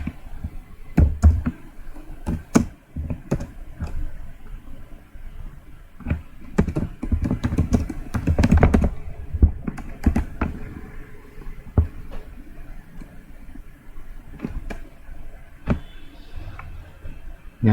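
Keystrokes on a computer keyboard as details are entered into an online ITR 7 income tax form, irregular bursts of taps and clicks, close and fairly loud, with no voice over them.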